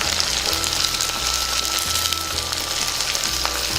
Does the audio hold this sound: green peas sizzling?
yes